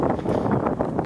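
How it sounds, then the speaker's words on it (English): Wind gusts outdoors, buffeting the microphone with a dense, low, rumbling roar that stays loud and steady throughout. "Oh, it's windy."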